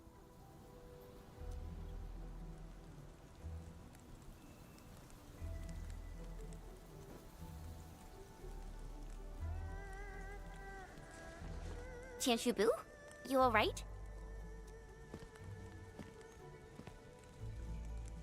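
Rain splatters steadily in the Endfield video game, a soft continuous patter sitting under a speaking voice, with a sharp louder burst of game sound effects around the middle.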